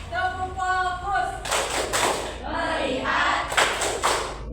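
Children in a classroom perform a rhythmic focus clap, bursts of group clapping mixed with chanting voices and an adult talking in between.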